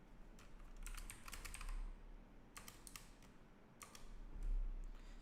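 Keys clatter in quick bursts of typing on a computer keyboard during a live coding session inside a virtual machine, with pauses between flurries over a low background hum.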